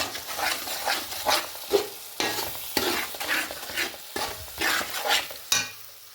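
A spoon stirs a vinegar mixture in a pan for carrot and lemon pickle, giving repeated scraping strokes in an uneven rhythm over a soft sizzle, close and moderately quiet, with no voices.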